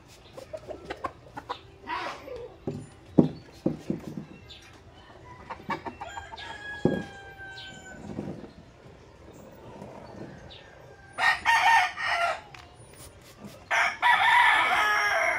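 Fighting roosters and chickens at a farm pen crow and cluck, several calls scattered through the scene with louder crowing bursts near the end, close by and with no one talking.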